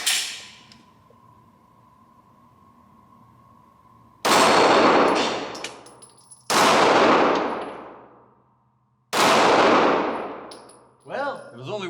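A Glock 43X pistol fired at a target, three loud, sharp, close shots spaced a couple of seconds apart, each ringing off with a long decaying echo, with faint ringing and a brief clatter afterward.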